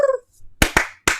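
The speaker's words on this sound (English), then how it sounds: "Do the Birdman clap." Three sharp, loud hand claps in quick succession, the Birdman clap, following a brief vocal sound at the start, close and distinct.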